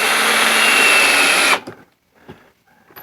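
A power drill drives screws into a glued wooden shelf for a French cleat system, one loud steady whir for about a second and a half, then quiet with a few faint clicks and handling sounds.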